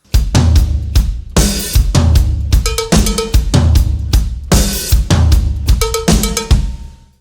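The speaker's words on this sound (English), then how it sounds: "strange cowbell placement, also in this song" A bright cowbell clanks repeatedly within a driving rock drum beat, its metallic knocks punching through kicks and snares in a loud, busy groove.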